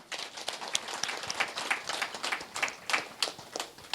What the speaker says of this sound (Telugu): మాస్టర్ నవకాంత్ గారికి గట్టి క్లాప్ చేసుకుందాము